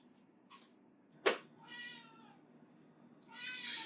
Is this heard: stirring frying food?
no